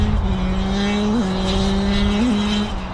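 A 2021 Kawasaki KX85 two-stroke dirt bike revs hard outside a dealership. Its loud, buzzing engine note holds high and steady, with two brief upward blips before it eases slightly at the end.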